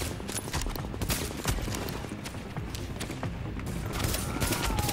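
Heavy enemy gunfire in the video game The Division: a sustained, loud stream of rapid shots, close and dense, throughout.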